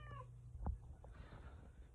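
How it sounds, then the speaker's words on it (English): A house cat gives a short, close meow at the start, followed by faint household thumps and quiet background. "I had to let my cat in."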